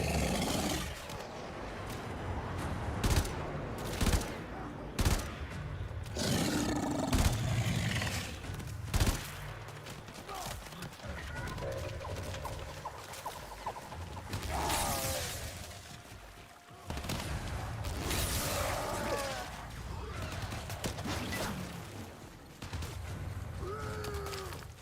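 Gunfire aimed at the player in the video game Warframe, bursts of shots and sharp cracks over a constant droning game soundscape, with scattered louder impacts early on.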